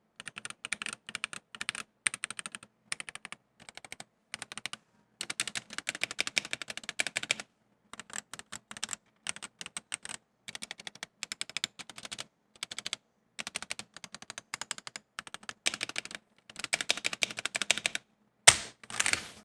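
Typing on a stock GamaKay K66 mechanical keyboard: quick, close, clacky keystrokes in uneven bursts broken by short pauses, with no other sound.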